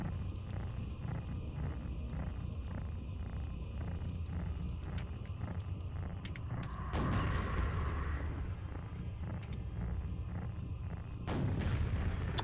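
Gunfire in the Quake game blasts through a window with two loud, bright bursts that sound like shattering glass, set against a steady game ambience of low rumble and repeating mechanical pulses.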